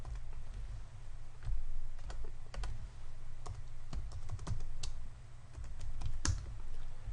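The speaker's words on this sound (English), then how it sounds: "I type in my user ID and password" A computer keyboard clatters as a user ID and password are typed in, with quick close keystrokes in uneven bursts and a few louder taps over a low background hum.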